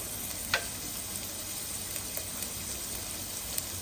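Mustard and fenugreek seeds sizzle in oil over a medium flame, giving a soft, steady hiss with a few faint pops and clicks.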